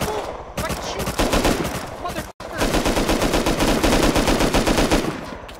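Gunfire in a video game, dense rapid automatic bursts, loud and continuous with one abrupt cut, while voices shout over it.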